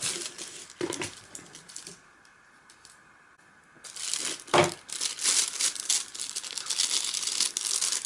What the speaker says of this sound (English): Just unwrap this packaging material.